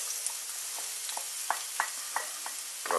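Chopped onion frying in a pan gives a constant, bright, close sizzle, with a spoon scraping and tapping at a fairly even rhythm of about one stroke every third of a second.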